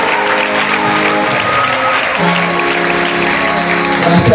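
A church congregation at a charismatic renewal gathering claps steadily for a woman called to the front, dense sustained applause filling the room, with some voices and a held musical tone beneath.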